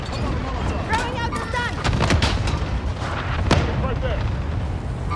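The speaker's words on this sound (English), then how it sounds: "Incoming fire from the right, incoming fire from the right." Gunfire and artillery blasts from the video game Call of Duty: Modern Warfare, dense and continuous with sharp cracks and booms throughout, while voices talk over the battle.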